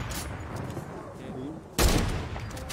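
Fortnite gunfire crackles over a noisy, busy background, with a sudden loud burst of shots partway through.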